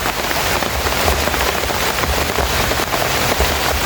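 Heavy rain pouring steadily outdoors, a dense continuous hiss with scattered close drop impacts, loud and unbroken throughout with no voices.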